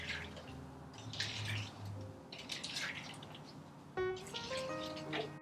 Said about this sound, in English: So I like to just pour it back and forth as far as mixture goes.